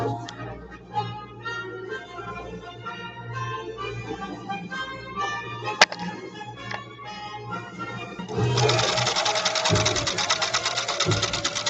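Singer sewing machine stitching in a workshop, a steady mechanical run that speeds up and grows louder and denser near the end, with no talk over it.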